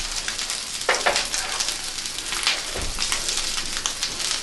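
Eggs sizzle in an oiled pan for a camp breakfast, a continuous close crackle and spatter with a few louder pops.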